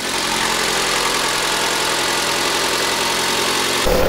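A gas-converted car engine idles steadily and evenly, a continuous close rumble with no valve knocking, cutting off abruptly near the end.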